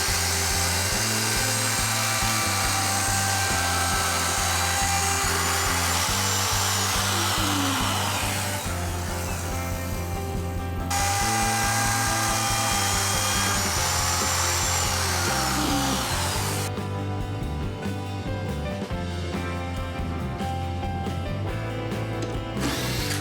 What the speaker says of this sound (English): Now I'm adding walnut inlays to the top of the base, using a template with a guide bushing.